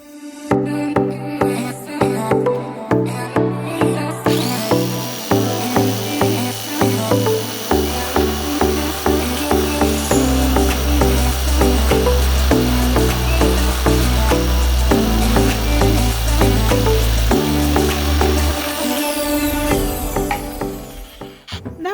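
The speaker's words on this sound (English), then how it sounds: "I decided to change my blade on my jigsaw to a metal blade, and I used my jigsaw to shear off that bolt" A jigsaw fitted with a metal blade cutting through a bolt on a 100-year-old dresser, a loud, close, rapid buzzing and rattling that shifts pitch as it bites and then winds down, with no speech.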